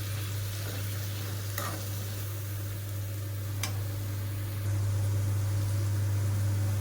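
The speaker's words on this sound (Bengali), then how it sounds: "এখন আমি ভালো করে কষিয়ে নেব সামান্য একটু জল দিয়ে।" Spices for a coconut tangra fish curry sautéing with a little water in a pan, giving a steady low sizzle with a faint hum beneath and a couple of brief clicks, growing slightly louder toward the end.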